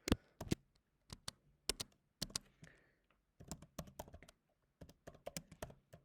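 Typing on a computer keyboard, close and fairly quiet: crisp, separate key clicks in short uneven bursts with brief pauses between, and no talking.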